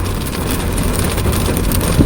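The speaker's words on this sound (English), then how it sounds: "You can hear the rain right now." Steady rain patters and hisses on a surface, a dense continuous wash of sound without voices.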